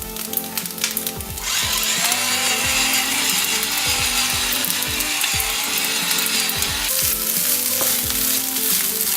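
Low-fat, low-carb fried rice sizzles steadily in a pan, a loud continuous frying hiss broken by the clicks and scrapes of stirring, with no voices.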